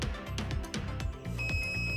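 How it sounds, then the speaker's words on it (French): A Weller filter warning alarm: a series of short electronic beeps repeats rapidly over a low hum, ending in a steady high tone. "Rouge, une alarme sonore retentit."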